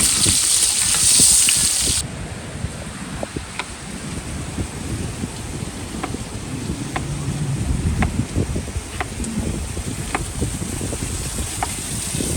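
Lamb chops sizzling and frying in a pan at a beach campsite, a steady crackling hiss with wind noise across the microphone, no voices.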